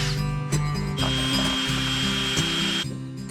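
A drill bores a hole in a carbon car interior panel for a cigarette lighter, giving a loud, close, high whine that holds steady for about two seconds between brief starts and stops.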